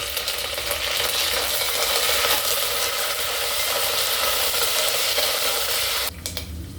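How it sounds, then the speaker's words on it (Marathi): Green chillies and curry leaves crackle and sizzle steadily in hot tempering oil with cumin and mustard seeds, a loud, continuous spitting hiss that drops off sharply near the end. "आता आपण फोडणीमध्ये मिरची आणि कढीपत्ता ऍड करणार आहोत"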